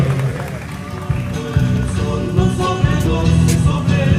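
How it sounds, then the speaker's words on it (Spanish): A crowd at a city anniversary ceremony in Villa Ángela applauds an award recipient, dense continuous clapping with a few louder claps, mixed with crowd noise and some voices. "Fuerte el aplauso para don Luis Garber"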